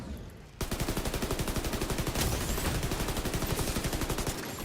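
Rapid automatic gunfire in The Division video game rattles out in a fast, even burst of closely spaced shots lasting several seconds, loud and up close after a short quiet start.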